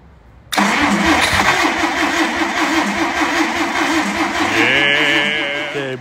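A Dodge Power Wagon's Chrysler flathead straight-six cranks and fires up about half a second in, then runs loud and steady close by with a rough idle and slight revving toward the end.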